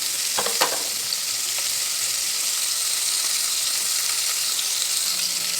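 Garlic and onion sauté in a pan with a steady, close sizzle and hiss, broken early by a few clinks and scrapes of stirring.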